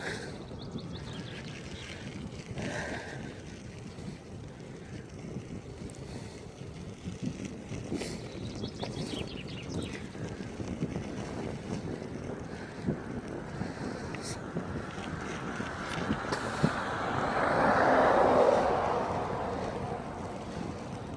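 Steady wind buffeting a microphone outdoors, a low continuous rumble with gusts that swell louder near the end, no voices.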